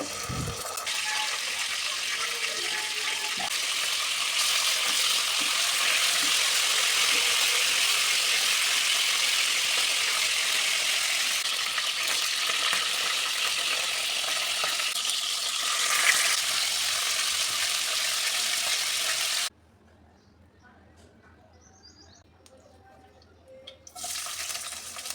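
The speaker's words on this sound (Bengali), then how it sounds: "মুরগির মাংসের পিসগুলো সামান্য বাদামি রং করে ভেজে তুলে নিব।" Chicken pieces fry in oil in a wok, browning as biryani is prepared, giving a loud, steady sizzle for about twenty seconds before it cuts to near quiet with faint scattered noises.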